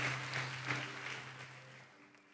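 A church congregation claps for God during a sermon, a dense, fairly faint patter of many hands that gradually fades over a couple of seconds.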